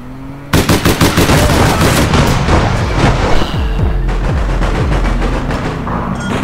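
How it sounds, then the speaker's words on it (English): Loud shotgun gunfire in the video game APB Reloaded: rapid blasts in quick succession, followed by heavier booming shots and echoing reports. "Is that a shotgun? Because that was like 3 explosions."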